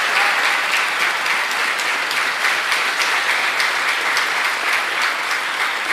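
Audience applause for a scholarship recipient at a Martin Luther King, Jr. scholarship award event: steady, dense clapping from a sizable crowd that holds evenly loud for about six seconds with no voices.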